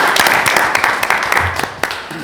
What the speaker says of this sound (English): Is this where we applaud?